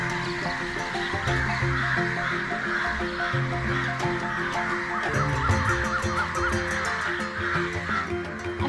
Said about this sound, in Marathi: या पक्ष्यांचे आवाज ऐकून मन अगदी प्रसन्न झाले